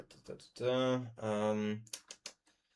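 A few sharp keyboard clicks, close by, mixed with a sustained humming voice in the middle.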